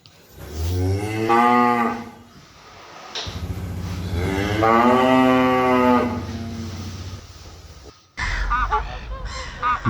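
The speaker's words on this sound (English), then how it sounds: "cow," A cow moos in two long, loud, close calls with clear harmonic tone, followed by a short burst of another animal sound near the end.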